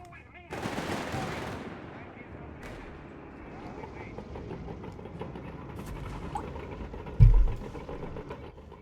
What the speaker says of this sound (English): And here we actually got a machine gun bunker here from Treadz.